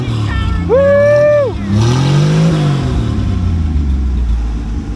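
The six-cylinder engine of a 1967 Plymouth Valiant two-door sedan revs up sharply, holds briefly, then drops back and settles into a rumbling idle, close to the microphone and loud.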